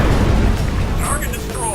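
A target blows up in the video game Ghost Recon Advanced Warfighter, a heavy low rumbling explosion that rolls on for nearly two seconds, loud and close, with game sounds and radio chatter layered over it.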